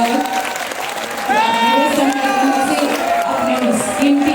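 Loud, sustained applause from a large crowd greeting the chief minister at a public event in Shravasti district, with a voice speaking over it through most of the clapping.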